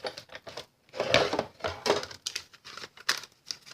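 Paper being cut out into shapes for a stamped bunny craft basket. The snips and rustles are close and come in short, irregular bursts with brief pauses.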